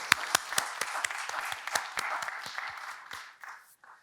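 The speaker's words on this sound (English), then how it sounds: "So let's please all give education a big round of applause for everything they've done." Audience clapping at a museum symposium on Indigenizing galleries, a dense round of applause with sharp individual claps standing out, fairly close, thinning and fading out toward the end.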